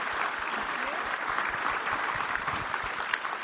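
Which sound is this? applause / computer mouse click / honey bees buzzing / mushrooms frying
applause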